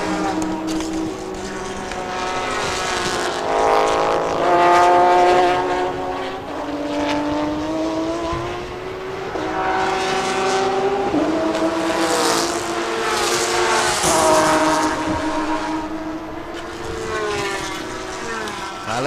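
GTM and GT4 race cars in a Thailand Supercar race howl past from a grandstand view, their engines swelling and fading in repeated passes with rising and falling pitch, steady and loud, a commentator talking over the noise.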